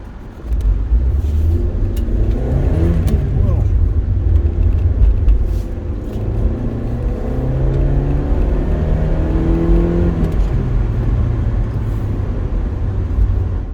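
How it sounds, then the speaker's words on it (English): Car engine rumbling and revving through a short drive in a restored project car, close and steady, with rising and falling engine tones as it accelerates and eases off, no talk. "I'm having a little drive in Project Kurt."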